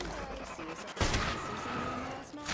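Apex Legends gunfire comes in a loud, close burst of shots with a sharp crack about a second in, mixed with players shouting and talking.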